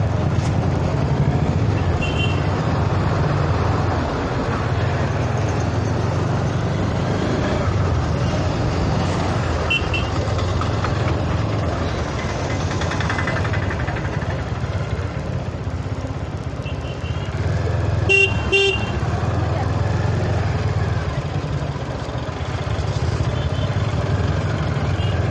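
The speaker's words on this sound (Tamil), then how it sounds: "சரியான டிராஃபிக்கில் மாட்டிகிட்ருக்கோம்." Heavy road traffic near Bell Rock at Kanjanagiri on a foggy day makes a steady low rumble of engines and idling vehicles, with a few short horn-like tones poking through now and then over the long stretch.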